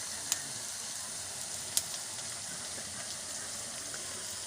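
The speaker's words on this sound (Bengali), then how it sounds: "মাংসের পেঁয়াজ কষা চলছে" Onions frying in oil for a meat curry, a steady, continuous hiss of sizzling close by with two brief sharp pops, and no talking over it.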